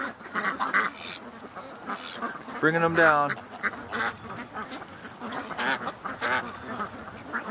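A flock of geese leading ducks down to land, their honking and quacking calls rising loudly near the middle while someone talks throughout.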